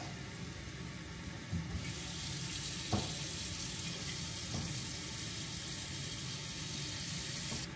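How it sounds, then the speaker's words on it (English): Water runs from a kitchen tap into a cooking pot, a steady continuous rushing hiss that carries on throughout, with a couple of faint knocks of the pot along the way. "So I am going to fill up a pot like this of water."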